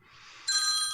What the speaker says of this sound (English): Oh, we got a phone call.